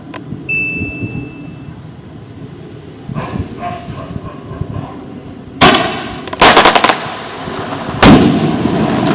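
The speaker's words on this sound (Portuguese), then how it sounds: "Estamos fazendo os testes dos fogos." Brazilian TNT Glitter firework rockets are set off in a test, with a brief whistle, then a run of crackles and several sharp, loud bangs near the end, heard close by.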